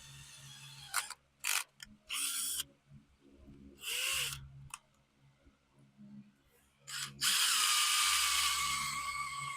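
A power drill drives a self-tapping screw into a utility trailer in several short bursts, then one longer run, each a close whirring grind separated by pauses.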